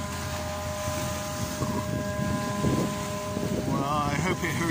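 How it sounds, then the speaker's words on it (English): A foghorn sounding in the fog at Southsea holds steady, faint tonal notes over a windy, rumbling waterfront background, with a voice talking near the end. "Well, I hope it heard that foghorn."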